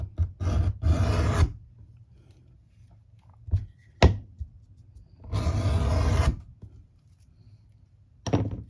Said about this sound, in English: I bevel the edges, starting at the ends.